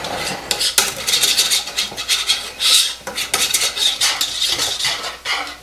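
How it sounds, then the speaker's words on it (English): A whisk clatters and scrapes quickly against a metal pot while stirring a caramel cake mixture, loud and close with a brisk irregular rhythm. "What I'm going to do is grab my whisk."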